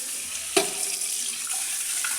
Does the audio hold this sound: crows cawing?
no